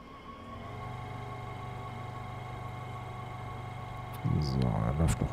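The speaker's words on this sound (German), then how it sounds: "So, da läuft noch ein Kompressor, wie sie es anhört." An air compressor runs on a locomotive in Train Sim World 4 on the snowy Semmering line, a steady low droning hum with a tonal whine, swelling louder near the end under rustling.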